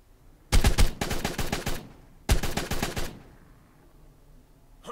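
Assault rifle fire in Ark Survival Evolved Mobile, loud and close: two rapid automatic bursts split by a short pause, with no talking over them.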